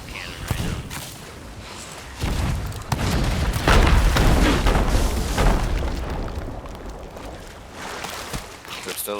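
Ship cannons in Sea of Thieves fire in heavy booms and crashing bursts, several rapid impacts building to a loud central barrage, with players talking underneath.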